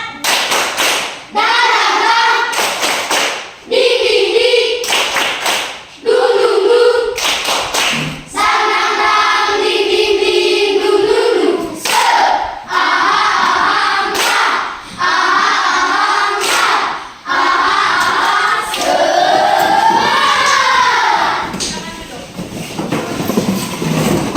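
Classroom children stand and perform the tepuk semangat clapping chant, bursts of rhythmic group clapping alternating with loud chanted voices, close and energetic throughout.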